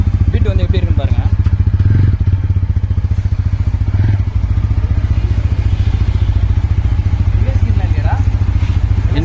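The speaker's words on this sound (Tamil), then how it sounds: "இன்ஜினோட சவுண்டு பீட்டு வந்து எப்படி இருக்குன்னு பாருங்கள்" A 2024 TVS Apache RTR 160 4V motorcycle with dual-channel ABS idles loudly and close by with a rapid, steady thumping engine beat. Someone talks over the running engine, and a few light clatters can be heard now and then.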